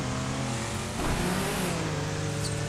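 A stolen car's engine revs and accelerates in the Lego The Incredibles video game, a steady loud mid-pitched roar that rises in pitch partway through, with no talking.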